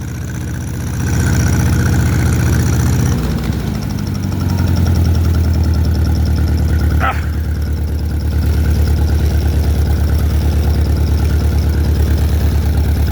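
An old Allis tractor engine, running on bad gas, idles with a steady low rumble and a loud, even throb throughout, shifting pitch slightly as it settles.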